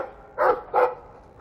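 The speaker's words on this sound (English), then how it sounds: "You're a good guard dog." A dog in the video game Dragon Age 2 barks twice, two short, mid-pitched woofs close by with a brief pause between them.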